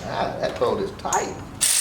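A ratchet wrench clicks in short uneven bursts while straining against a tight engine bolt on a 2004-2012 Chevy Colorado, close and fairly loud.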